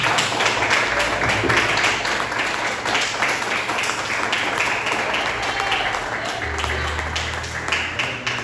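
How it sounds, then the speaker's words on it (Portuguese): A church congregation breaks into sustained applause, with dense, even clapping from many hands that fills the room at a steady level throughout. "Uma salva de palmas para Jesus."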